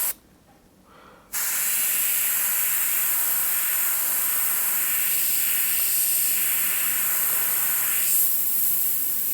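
An airbrush sprays thinned, extra-reduced paint onto a driver's helmet, giving a steady, close hiss that starts abruptly after a short quiet moment and runs on evenly with slight swells.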